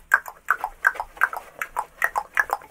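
A horse in the Red Dead video game makes rhythmic hoofbeat clip-clops with snorting, steady and close, around three or four steps a second and with no talk over it.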